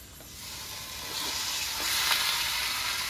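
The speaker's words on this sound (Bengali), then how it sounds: "মশলাটা কষানো হয়ে গেছে, এবার মাংসগুলো দিয়ে দেবো।" Meat pieces go into a fried spice paste of green chilli for a thin Bengali curry, and a broad, steady sizzle swells slightly partway through, close and continuous with no talking.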